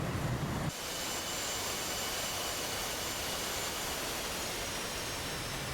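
A World War II Navy propeller plane roars steadily and loudly close by, its broad engine drone starting abruptly and holding constant with no voices.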